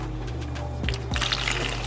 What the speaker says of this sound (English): I'm gonna pour it into all of our potions.